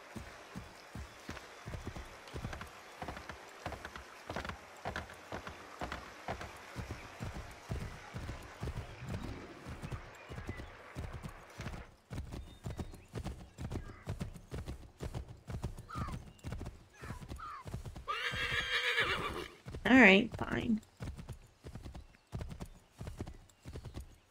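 Horse hooves clip-clop steadily at a gallop in the Assassin's Creed III video game, close and rhythmic throughout, with a loud neigh near the end and no talking over it.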